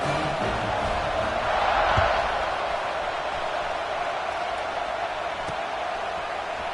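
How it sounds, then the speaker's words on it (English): Football stadium crowd roaring as the home defense takes the field, a broad, steady wash of cheering that swells briefly near the start and then holds at a constant level. "you think this crowd's going to get loud when their defense comes on the field?"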